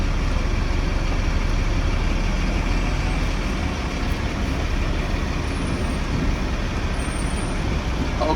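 Class A truck pulling forward slowly in low gear at about 5 mph, a steady deep engine drone with continuous low rumble throughout.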